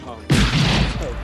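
A single loud gunshot in a Western film scene set on the plains, a sudden broadband blast followed by a sustained rumbling decay that fills the rest of the moment, with no speech over it.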